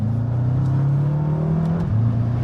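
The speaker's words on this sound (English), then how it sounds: "It's like that gear change is crisp." BMW M5 F10 with its 4.4-litre twin-turbo V8 pulls hard, a loud steady engine drone climbing in pitch before a brief dip at a crisp gear change, then resuming under load.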